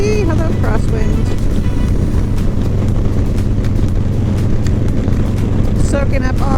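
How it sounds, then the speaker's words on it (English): Crosswind roars over the rider on an autumn motorcycle ride, a loud, steady buffeting rumble that covers the whole stretch with no pause. "Oh, it is windy"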